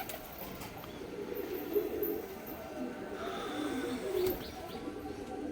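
Pigeons coo softly at dusk as they settle into their house. The low murmuring coos are faint and continuous against quiet background noise, with a few scattered chirps.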